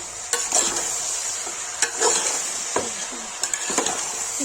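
Chicken pieces with onion sizzle and are stirred in hot oil in a pan for a Kashmiri chicken masala curry, with a steady hiss, repeated scraping strokes and clatter close by, and no talking.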